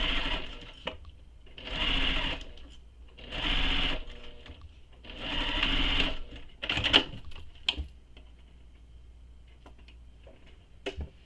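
Sewing machine stitching a Nora bag near a zipper, running in three or four steady bursts of about a second or two each, then stopping for a few light clicks and handling taps.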